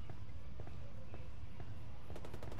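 Gunfire in Tom Clancy's Ghost Recon Wildlands, heard as scattered distant shots over a dense, rumbling game background, ending in a quick volley of sharp cracks.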